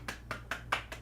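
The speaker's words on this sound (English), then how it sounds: "Big applause." Five sharp, evenly spaced hand claps from a single person, close and moderately loud, in a slow steady rhythm over a low background hum.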